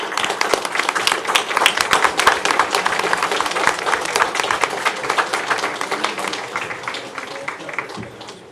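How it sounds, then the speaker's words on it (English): Applause at a city commission regular meeting, a steady round of clapping from a crowd of community members that holds loud and dense for several seconds before slowly thinning at the end. "So a big round of applause for all of the people standing up here and all of the community that came together."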